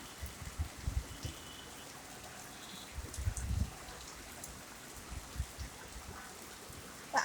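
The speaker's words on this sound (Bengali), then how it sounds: "সেই সকাল থেকে বৃষ্টি, অনেক সুন্দর।" Rain falling around a small balcony garden, a faint steady patter with occasional louder drips and splashes nearby, no voices.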